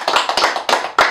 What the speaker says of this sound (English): Let's give a hand to Roberta.